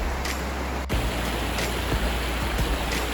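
Horsethief Creek in British Columbia rushes over a slab of bedrock, a loud, close, continuous wash of water with a few faint splashes.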